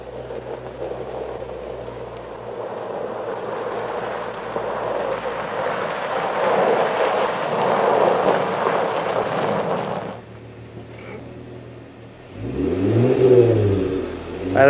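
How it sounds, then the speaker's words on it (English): Jeep JK with a Rough Country axleback exhaust revs up to a loud, rising roar, drops off briefly, then surges again in a second hard rev close by. "that's just your rough country axleback Jeep exhaust"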